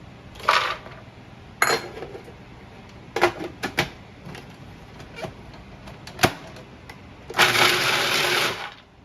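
Short bursts from a food processor pulsing a cup of pecans for haroset, a few brief whirring pulses with a longer, louder burst near the end and quiet gaps between them.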